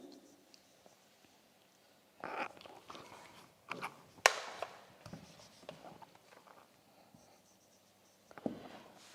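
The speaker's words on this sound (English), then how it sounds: "Let me write here." Marker or chalk scratching and tapping on a board during a class 10 social science lesson. The strokes are faint and irregular, with soft scrapes, a sharp tap in the middle and some room noise.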